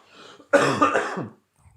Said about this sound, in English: Sorry, I'm just still going through a cough.